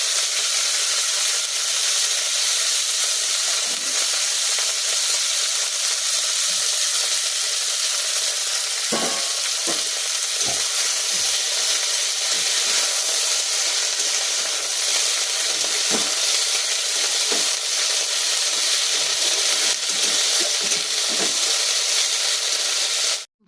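Cabbage frying in a pan gives a loud, steady sizzle and hiss throughout, with occasional soft scrapes and taps of stirring and no talk.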